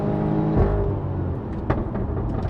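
A BMW X3 M40i idles and burbles up close, with a couple of sharp exhaust pops and crackles breaking through the engine rumble.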